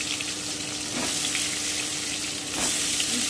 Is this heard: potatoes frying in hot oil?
yes